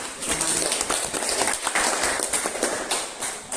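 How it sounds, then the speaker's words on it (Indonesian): A class in a school biology lesson on protists claps together, a dense run of quick hand claps that stays steady throughout, with a few voices mixed in. "silakan berikan tepuk tangan"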